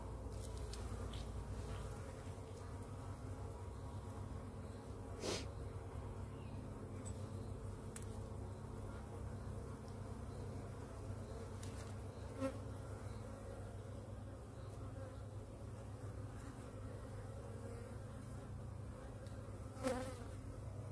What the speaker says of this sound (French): il y a pas mal de jeunes abeilles